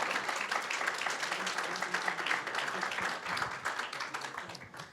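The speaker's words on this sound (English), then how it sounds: "why don't we just give them a round of applause for doing this tonight" Audience applause at a county supervisor candidate forum in Santa Cruz, a steady wash of many hands clapping that holds evenly for about five seconds before easing slightly at the end.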